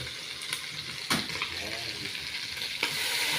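Steady sizzling from a hot pan cooking chicken tinola with a few sharp pops and clinks, as water hits the heat and keeps crackling.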